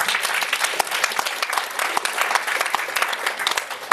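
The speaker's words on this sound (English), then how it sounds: "How about give them a big applause?" Audience applause at a social enterprise forum, a dense crackle of clapping hands sustained at steady volume throughout, fairly close with no talk over it.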